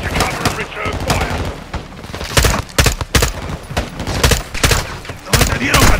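Dense gunfire in a Modern Warfare 2 (2022) campaign firefight, rapid automatic bursts and heavy impacts that stay loud and close throughout, with brief gaps between volleys.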